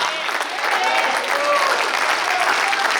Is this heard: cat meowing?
no